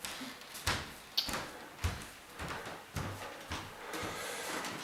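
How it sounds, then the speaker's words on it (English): An apartment door swings shut with a few knocks and a latching thud, close by and moderately loud, with small bumps and handling noises around it in a quiet room. "But I need to close my door."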